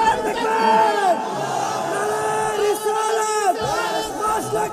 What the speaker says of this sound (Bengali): কারা কারা এবার স্লোগান দেন ইনশাআল্লাহ